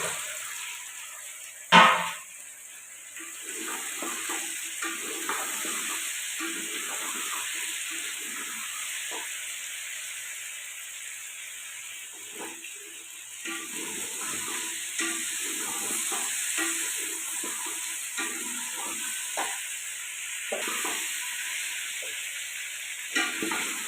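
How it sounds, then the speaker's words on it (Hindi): White brinjal frying in ghee with a steady, close sizzle and hiss that runs throughout, opening with a brief sharp clink of a utensil, and no voices. "अब ये घी में फ्राई हो चुके हैं"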